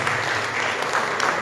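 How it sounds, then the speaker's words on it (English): An audience at an anniversary gathering of a Saiva religious society claps in a brief, dense burst of applause, steady and fairly close. "I think he deserves another round of applause"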